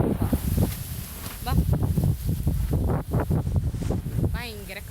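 Strong wind gusts outdoors near a half-collapsed bamboo house, buffeting the microphone in a constant roar, while people talk throughout over it.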